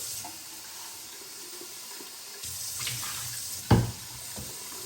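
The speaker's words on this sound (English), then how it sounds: "Now we just got to put water in it. So yeah, I put cold water." Cold water pours into the tank of a Jura ENA 4 coffee maker as a steady, moderate hiss of running water, with a brief louder splash near the end and no talking.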